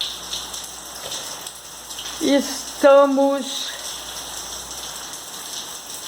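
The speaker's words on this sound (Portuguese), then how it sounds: "com chuva há vários dias, o dia inteiro." Steady rain falls over several days, a continuous hiss of drops on surfaces, with a person speaking briefly partway through.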